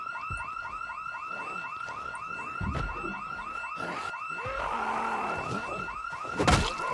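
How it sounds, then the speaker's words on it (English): A car alarm blares in a zombie survival video game, a steady repeating electronic whoop-and-warble cycle running loud and continuous, with a brief thump near the end. "you can hear me over that alarm"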